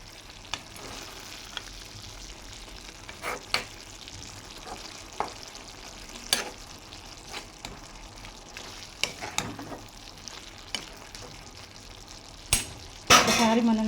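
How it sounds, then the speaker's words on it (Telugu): A broad bean and tomato curry sizzles softly in a pan while a spoon stirs it, with scattered utensil clinks and scrapes against the pan and a sharper clatter near the end. "ఇప్పుడు మనం ఇది మంచిగా కలిపేసుకుందాం"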